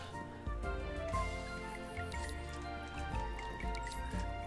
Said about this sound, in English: gotta water the plants first